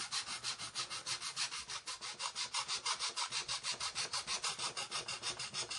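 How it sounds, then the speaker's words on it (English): A Tamiya razor saw cuts through a plastic part of a Trumpeter 1/32 Corsair model kit in steady back-and-forth strokes, about four per second, quiet and close with no talking. "This is a Tamiya razor saw."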